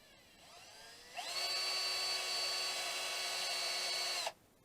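A power drill spins up and runs steadily at a high whine while an M3 die cuts a thread on a rod for a model trailer build, close and continuous for about three seconds before stopping abruptly.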